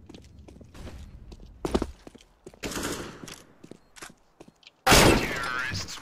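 Flashbang grenade in CS:GO, a sudden loud burst near the end that leaves a lingering ringing wash, preceded by scattered footsteps, gunshots and thuds from the match.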